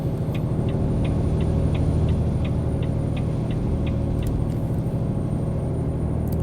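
A Volvo VNL 670 truck cruises at about 1500 RPM and 60 mph in American Truck Simulator, its engine a loud, steady low drone with a regular ticking indicator clicking over it, no talking.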